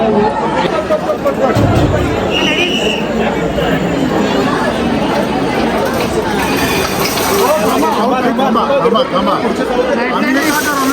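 A dense crowd in the queue at the Ambabai temple fills the air with constant babble, overlapping voices and occasional clinks, loud and close throughout.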